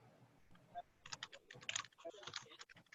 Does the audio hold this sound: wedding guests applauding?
no